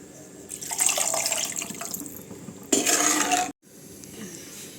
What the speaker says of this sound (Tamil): தண்ணியை ஊற்றிருக்கோம்.